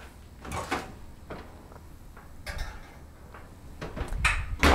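A strawberry oat crisp goes into the oven: a few close clanks and thuds as the dish is set on the rack and the oven door is handled, with quiet gaps between them.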